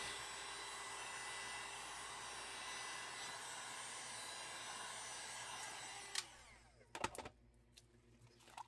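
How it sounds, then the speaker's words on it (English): A heat gun blows a steady, loud airy roar across a textured resin coaster for about six seconds. Then it switches off, leaving a few clatters and knocks. "I'm going to run my heat gun back through this one"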